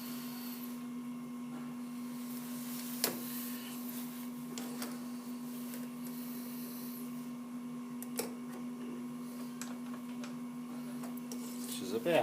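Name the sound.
lathe turning and single point threading a drive shaft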